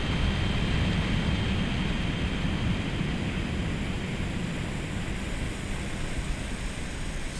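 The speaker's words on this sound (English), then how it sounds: "Oh, get some real vent noise." Steady rushing air pours from a laptop cooling fan vent, a constant broadband whoosh with no pauses or voices.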